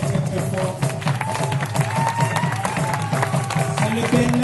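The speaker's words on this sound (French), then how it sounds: "Il faut les applaudir très très très fort" A concert audience at an Institut français show claps and cheers loudly and continuously for the performers, a dense wash of clapping with crowd noise and some musical tones running underneath throughout.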